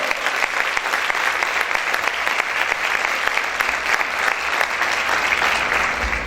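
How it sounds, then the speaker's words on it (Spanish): A church congregation applauding loudly, dense sustained clapping from many hands filling the room at an even level throughout, with no talking over it. "¿Cuántos pueden aplaudir fuerte al Señor?"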